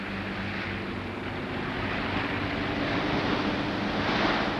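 The pororoca tidal bore at the Amazon river mouth surges as a continuous deep roar of breaking surf, loud and steady with wind-like rushing and no voices.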